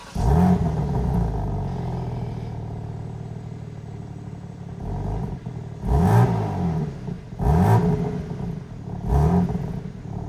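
A 2025 BMW M4 Competition with a twin-turbo inline-six rumbles at idle close by, then revs sharply three times in quick succession, each blip rising and falling, with no voices.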